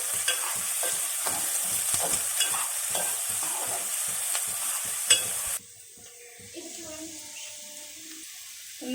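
Green chillies being stirred through hot oil in a pan for an aloo samosa filling, a steady close sizzle with scraping stir strokes that drops to a quieter fry partway through.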